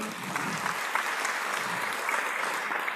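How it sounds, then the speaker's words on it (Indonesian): An audience at a motivational stage event breaks into steady, even applause, a dense wash of clapping at fairly low level with no talk over it. "tepuk tangan semua teman-teman"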